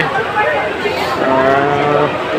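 A loud, drawn-out moo from a large bull close by at a livestock exhibition in Bangladesh, with a noisy crowd murmuring in the background.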